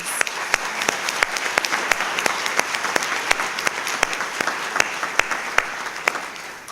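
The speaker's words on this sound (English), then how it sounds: "If we could give them a round of applause." Steady applause from an audience, dense clapping with a few sharper claps standing out, continuing evenly throughout.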